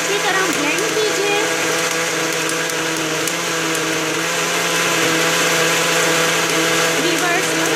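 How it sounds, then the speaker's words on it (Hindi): Electric blender whirring steadily while blending tamarind chutney with spices and sugar, a loud, even motor drone that holds for the whole stretch with only slight variation, close up and uninterrupted. "व्यूवर्स, इसको 5 मिनट्स तक के लिए अच्छी तरह ब्लेंड कीजिए।"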